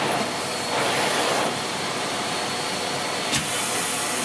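A Siemens Z6.0 Power 2500W cylinder bagged vacuum cleaner runs with its floor head on a quiet setting, giving a steady, even broadband whoosh throughout, with a brief louder swell partway through and a short sharp click near the end.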